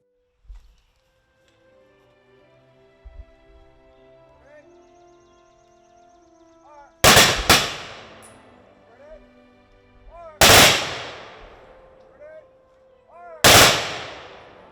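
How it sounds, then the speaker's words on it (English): A veterans' rifle guard fires a Memorial Day salute: three loud volleys a few seconds apart, each with a long echoing tail, after quieter background sounds and a faint tone. "Featuring a salute from the Rifle Guard veterans of foreign wars"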